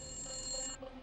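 A telephone rings with a bright electronic trill that holds steady and then cuts off, heard alone in a quiet indoor setting.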